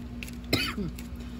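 A single short throaty cough close by, brief and sharp against a quiet hum.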